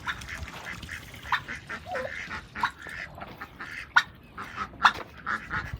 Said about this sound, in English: There's two of our duck friends.